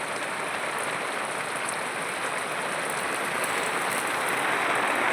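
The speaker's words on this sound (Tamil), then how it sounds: "இங்கேனா ஒழுகுது, அப்புறம் இங்கிட்ட ஒழுகுது. பேச்சுக்கிறதுக்கு ஒழுகிட்டே இருக்குது." Heavy rain pours steadily onto a goat shelter, and rainwater leaks inside. The downpour is a loud, constant hiss with no break and no talking.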